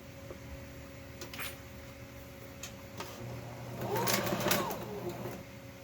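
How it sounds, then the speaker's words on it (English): A sewing machine stitches a quarter-inch seam on a fabric face mask, a faint steady ticking drone rising into a louder close burst of stitching near the end. "we're going to do a 1/4 inch seam and seam these last section together"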